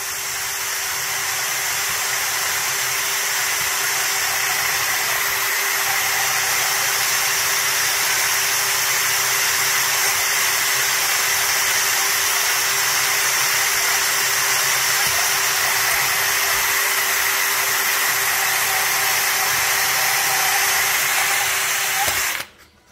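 A power drill whines steadily and loudly for a long stretch while it slowly grinds through an old oak barn beam, then stops abruptly at the end.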